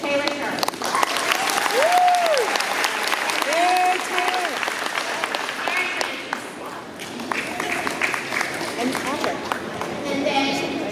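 A crowd at a township school board meeting claps and cheers for champions, sustained loud applause filling the room with chatter and a few voices mixed in.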